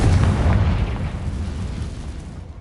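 A Confringo blasting spell explodes in Hogwarts Legacy: one loud, deep boom that bursts at once and then rumbles away over a couple of seconds, alone with no talking.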